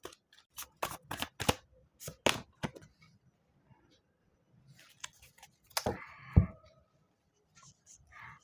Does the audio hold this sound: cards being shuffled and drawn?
yes